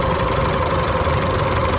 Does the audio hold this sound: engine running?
yes